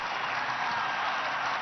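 A large crowd in St Peter's Square gives Pope Benedict XVI an ovation, a dense, even wash of applause and cheering heard at a distance, steady and unbroken.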